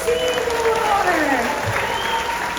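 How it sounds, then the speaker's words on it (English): Audience applause in the stands at a SeaWorld marine animal show, steady crowd clapping under an amplified presenter's voice and music-like tones for the whole short stretch. "Okay, round of applause for"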